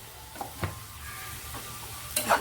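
Amaranth leaves and tomatoes frying in oil in a pan for a Telugu-style curry, giving a low steady sizzle with a few stirring scrapes and clinks near the microphone, no voices.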